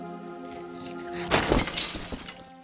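Glass shatters in the video game Deponia Doomsday, a single loud crash with a burst of tinkling shards that fades out quickly over a steady musical background.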